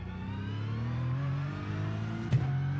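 A race car engine revving in the iRacing sim racing game during qualifying, a steady buzzing drone that climbs gradually in pitch, loud and close, with a brief sharp bump near the end.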